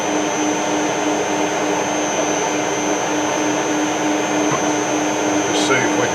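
A lathe takes a very small skim cut with a carbide-tipped boring bar, producing a constant loud motor whine with a steady hum, unbroken throughout.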